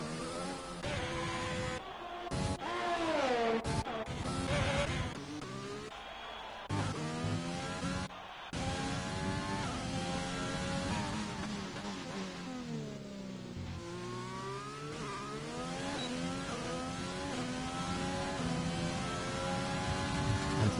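An F1 car from the F1 2020 video game runs a fast lap at Bahrain, its high engine wail rising and falling through gear changes and braking zones. The sound is faint and steady, with brief dropouts.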